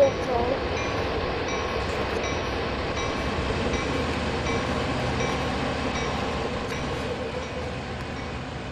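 Train running in Train Sim World 2, a steady rolling rumble with faint rail clatter held at an even level throughout, no clear voices over it.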